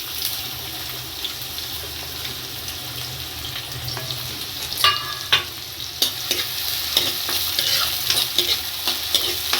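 Finely chopped onion fries in hot oil for a tinda sabzi, a continuous near sizzle broken in its second half by repeated scraping and clinking as a spatula stirs the pan. No one speaks.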